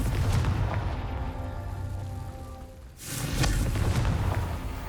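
A Confringo fire spell explodes in the Hogwarts Legacy game, two loud booming blasts with rumbling low tails, the second erupting after a short lull.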